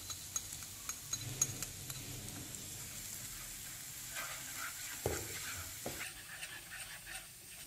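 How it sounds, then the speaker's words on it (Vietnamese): Garlic and lemongrass frying together in oil in a pan, a quiet, continuous sizzle broken by scattered crackles and occasional stirring scrapes. "Phi cho tỏi thơm mà nó hơi vàng như vậy nè. Thì tiếp tục mình cho hết phần sả vào mình phi chung."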